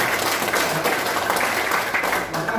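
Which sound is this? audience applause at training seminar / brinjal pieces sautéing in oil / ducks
audience applause at training seminar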